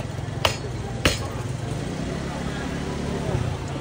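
A hammer strikes twice in quick succession, sharp and close, at a busy night market in Kaohsiung. Steady crowd noise runs underneath.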